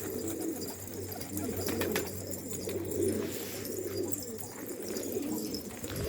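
Pigeons coo in low, rolling bursts through a loft full of birds, including Dutch-type and yellow Hungarian and rose-patterned fancy breeds, with a steady wash of soft calls and no talk.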